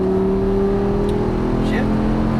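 An Audi R8 accelerates on a race track, heard from inside as a loud, steady engine drone that holds close and even for the whole moment.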